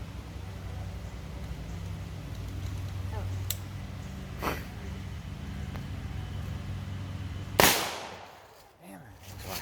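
A single sharp rifle shot from an AR-15 cracks loudly near the end, preceded by faint clicks and low background rumble, with a short decay afterward.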